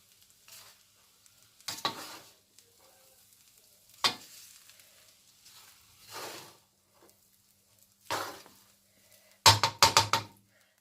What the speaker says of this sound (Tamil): ரைஸை உடைச்சிடாமல் மெதுவாக நாங்கள் வந்து மிக்ஸ் பண்ணி எடுத்துடணும்.